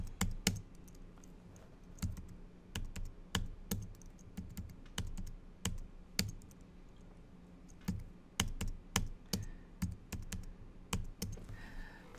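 Typing on a computer keyboard while entering figures into a spreadsheet: irregular bursts of crisp close key clicks over a faint steady hum, with no talking.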